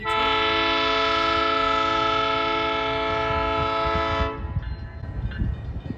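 A train horn blares loud and steady for about four seconds, then cuts off, leaving the low rumble of an arriving heritage train near North Bend and Snoqualmie.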